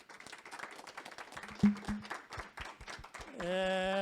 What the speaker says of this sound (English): And applaud to our speakers and panelists